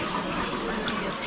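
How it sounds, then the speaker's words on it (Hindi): Water trickles and flows steadily out of rock crevices at a hillside cave site, a continuous close splashing wash with no talk over it. "बस यहाँ पे पानी ऐसा निकलता रहता है"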